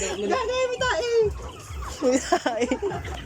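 A pet turkey gobbles in a rural yard, a few loud rippling gobbles and clucks close to the microphone, with someone talking nearby.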